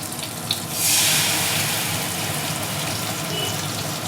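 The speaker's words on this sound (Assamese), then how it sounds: "এগিলাচ পানী দি দিছোঁ" Water streams into a kadai with a rushing splash that swells after a moment, then continues as a steady hiss and trickle.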